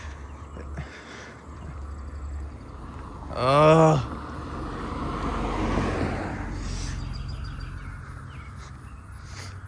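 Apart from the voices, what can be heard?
car passing on road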